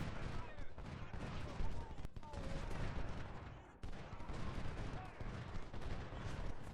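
Continuous massed gunfire from a Civil War battle in the strategy game Ultimate General: Civil War, rolling volleys and crackling musketry overlapping into a dense, sustained roar.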